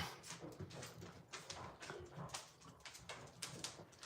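Dogs whimpering and whining while begging for grandma style pizza, with soft, irregular whines, snuffles and shuffling close by in a quiet room, no speech.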